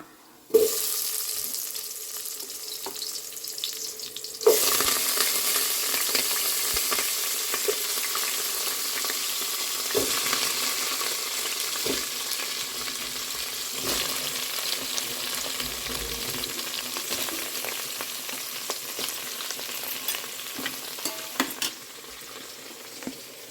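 Bottle gourd curry frying in a pan, with a loud, steady sizzle that starts abruptly, under intermittent clinks and scrapes of stirring, close by throughout.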